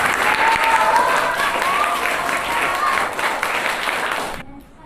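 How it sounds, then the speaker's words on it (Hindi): Audience applause at a school farewell and honour ceremony for a teacher in Kamlapur, Bokaro: loud, sustained clapping from a crowd with voices mixed in, cutting off abruptly near the end. "तालियां।"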